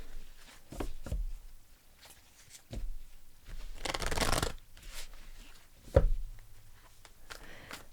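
Tarot cards shuffled and pulled close up: several soft papery riffles and slides spread across the stretch, one longer shuffle in the middle and a sharp tap near the end, with quiet pauses between.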